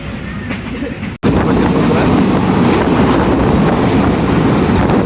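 A train pulls in at Darshana railway station on the Khulna to Akkelpur route, a steady loud rumble with wind buffeting the microphone, broken by one brief dropout before the roar resumes.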